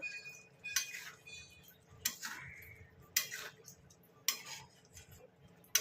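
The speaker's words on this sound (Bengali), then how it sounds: "একটু নাড়িয়ে দেবো।" Mutton keema being stirred in a pan with a spoon: five separate metallic scrapes and clinks at a slow, regular pace, close and fairly loud against a quiet background.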